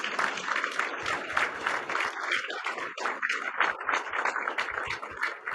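Crowd gives a round of applause for Governor Kristi Noem at an event on state sovereignty, lively clapping from many hands with a few cheers, sustained for several seconds.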